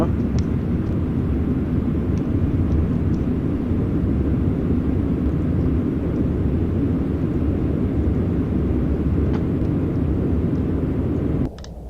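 Boeing 747 engines in Flight Simulator X give a steady, loud, broadband roar that holds unchanged throughout, then drops off abruptly at the very end.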